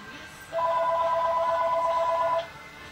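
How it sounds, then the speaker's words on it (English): An electronic telephone rings once, a steady two-tone trill that starts abruptly, holds for about two seconds at close, clear volume and then cuts off, with faint room noise around it. "there goes the phone"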